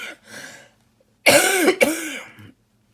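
A woman coughs twice in close succession, loud and near, after a brief faint throat sound, then falls quiet.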